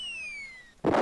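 Grenade blast destroying a house in the PC game Cannon Fodder: a sudden loud burst of noise arrives near the end, following a few falling electronic tones.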